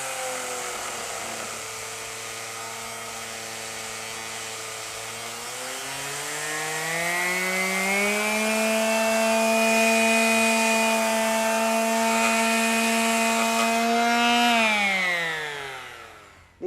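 A Black & Decker KA400 electric sander sanding wood hums continuously, its motor pitch rising and holding higher before winding down at the end; steady, close and alone.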